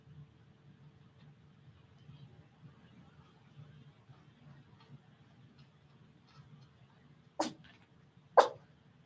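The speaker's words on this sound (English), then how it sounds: "What are you barking at?" A dog gives two sharp, separate barks near the end, each short and fairly close, after several seconds of quiet room tone with a low hum.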